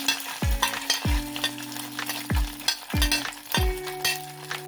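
Curry leaves are dropped into hot oil and stirred for lemon rice, with about five ringing metallic knocks of a spatula against the pan over a continuous sizzle.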